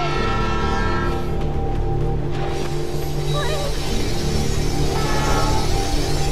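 A train horn blares and a passing train rumbles steadily on the tracks in the Life is Strange video game, the loud, dense rail noise filling the whole stretch beneath a layer of game music.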